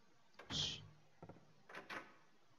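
A door in the survival horror game Silent Hill opens with a soft creak and thud, then a couple of faint clicks and a second quiet bump, heard in a near-silent room.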